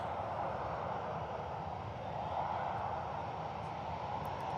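Ryanair airliner vacating the runway at Manchester Airport, a steady distant jet engine roar held at an even level throughout, with no talk.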